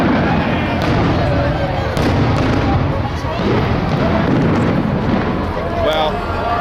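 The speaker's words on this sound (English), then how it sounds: "I think it's a bit underwhelming, the fireworks show here, but it's still going, sort of" New Year fireworks show in Edinburgh, with scattered distant pops and muffled bursts at irregular intervals beneath a continuous crowd murmur and nearby voices talking.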